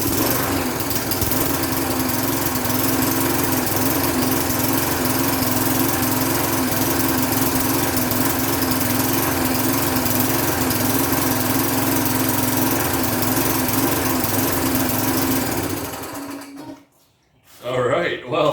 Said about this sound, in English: So let's give it a couple pumps, a couple pulls, see if it starts.